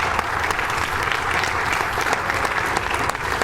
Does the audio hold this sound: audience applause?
yes